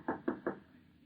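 Three firm knocks on a door in an old-time radio drama, evenly spaced and close, then quiet room tone.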